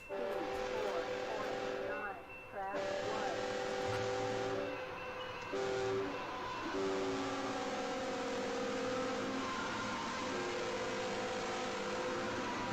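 Freight train rumbling past trackside, heard faintly with sustained horn-like tones and steady rolling noise, while people talk over it.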